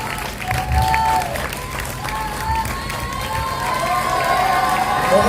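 Steady, dense applause from a live audience at an Urdu poetry mushaira, welcoming poet Naeem Sameer for an award, with some cheering mixed into the continuous crowd clapping.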